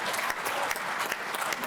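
A convention audience claps in a dense, lively round of applause, many hands together with brighter individual claps standing out, close and full throughout.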